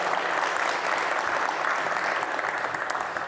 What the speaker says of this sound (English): Please give him a round of applause for coming.